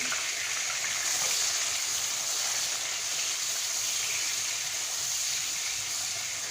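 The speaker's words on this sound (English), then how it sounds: "Now we're going to add onion." Onion sizzling in a hot pan, a steady bright hiss of frying that holds evenly from start to finish with no talk over it.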